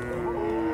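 A dairy cow at a cattle fair gives a single sustained, droning moo, close and clear against a low background murmur.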